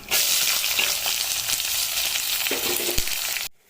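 Steady loud sizzling of onions and garlic frying in hot oil for a Tamil brinjal kara kuzhambu, with a few clinks of stirring, cutting off abruptly at the end.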